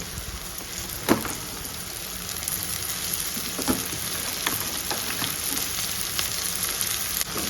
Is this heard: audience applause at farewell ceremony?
no